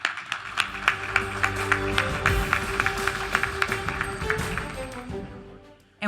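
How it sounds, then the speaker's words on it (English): An audience at an awards ceremony applauds in steady, scattered claps over a hum of background tones, fading out toward the end. "Give you a round of applause for all that you will do for in the future."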